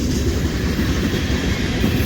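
A train passes close by on a Chicago-area railway, a loud, continuous rumble of rail cars rolling past without pause and with no voices.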